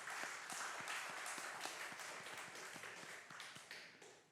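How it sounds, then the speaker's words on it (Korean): A church congregation claps in unison at a Sunday worship service, with steady rhythmic applause that carries on throughout and sounds slightly distant and roomy. "우리 하나님 앞에 영광의 박수를 올려드립시다."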